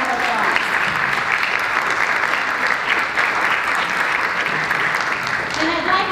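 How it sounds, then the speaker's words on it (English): Sustained applause from an audience honoring education workers at an evening event with Indiana's Superintendent of Public Instruction, dense steady clapping filling the whole stretch, with faint voices mixed underneath. "And let's give them a round of applause."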